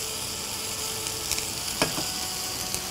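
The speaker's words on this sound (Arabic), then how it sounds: "مجرد ان هي تتحمر بس على كل الوشوش بتاعتها، ده هيكون كافي خالص ان التندرلوين تكون استوت" Lamb tenderloin browning in a hot pan gives a steady, moderate sizzle of frying, with a few faint clinks and stirring touches over the constant hiss.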